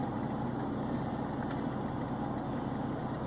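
A car engine while driving in the early morning, a steady low rumbling hum with even vibration throughout, close and unchanging, no talking.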